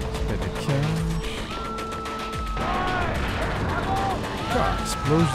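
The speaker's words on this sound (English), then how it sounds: "explosions everywhere" Booming explosions and sharp gunfire bursts in Far Cry 4 crowd the mix, with game sound effects and tones layered over a constant rumble.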